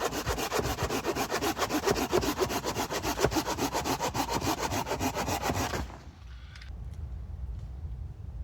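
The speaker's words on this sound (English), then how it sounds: "going to cut up some wood, get a fire going" Hand saw working steadily through wood for a campfire outdoors, a loud rhythmic back-and-forth rasp that stops abruptly near the end, leaving a quieter background hum.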